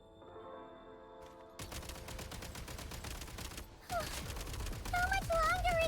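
Rapid gunfire in Genshin Impact bursts out over game music and effects, a steady rattling fusillade that intensifies toward the end, with people talking over it.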